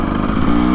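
A KTM 300XCW two-stroke dirt bike fitted with a quick-turn throttle cam revs hard in one short, loud, sustained burst of raspy engine drone.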